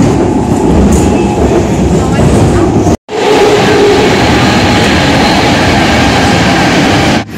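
A train rides through San Francisco with a loud, continuous rumble and clatter of wheels on rails, broken by a brief sharp drop in sound around the middle and another near the end.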